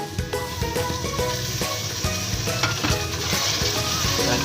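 Masala for an aloo shimla mirch dish fries in a pan with a steady, close, crackling sizzle throughout, with faint tonal music underneath.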